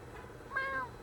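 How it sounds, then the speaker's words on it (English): A kitten gives one short, faint meow in the middle of a quiet indoor background hum. "You're a good kitten."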